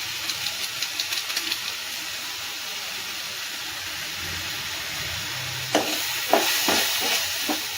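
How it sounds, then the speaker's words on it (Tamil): Garam masala and chili powder sizzle and fry in a pan with an even, continuous hiss. Faint scraping stir strokes come in at the start, and a few louder stirring knocks land near the end. "நல்லா வதங்கிடலாம்"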